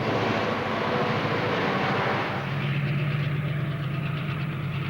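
A Westrail narrow gauge freight train hauling about 1,000 tons of wheat at Northam rumbles past with a loud, steady roar that softens midway into a lower, humming drone.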